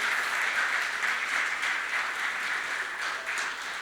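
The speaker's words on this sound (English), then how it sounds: "Can we give Michael a round of applause?" Audience applause at a church gathering welcoming a guest speaker: a dense, steady wash of clapping from a crowd, moderately loud and continuous, with no speech over it.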